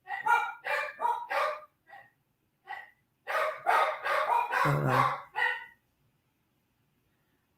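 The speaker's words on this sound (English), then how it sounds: "Y'all gonna hear my dog going crazy." An excited dog barks repeatedly in quick bursts, loud and close, with a short pause midway before a longer run of frantic barking, and a person speaks briefly.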